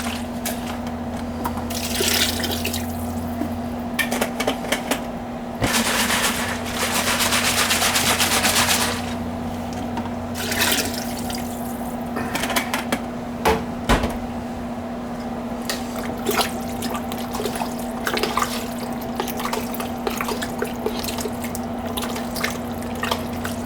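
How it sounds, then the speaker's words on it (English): Water runs and drips into a cooking pot to rinse out leftover stew, a close trickle and splash with bursts of heavier pouring over a steady background hum. "Put some water in here and kind of rinse this stuff out."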